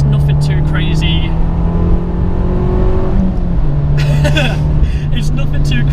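An Abarth 595 Competizione engine idles loudly and close with a steady low drone, briefly revving and shifting pitch midway, with bursts of higher mechanical whine over the top.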